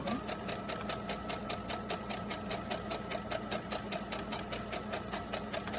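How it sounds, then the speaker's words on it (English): A sewing machine back-stitching elastic onto a washable medical face mask, with a close, steady mechanical whir and fast, even stitching pulses running the whole time without a break. "You're going to back stitch on the elastic for security."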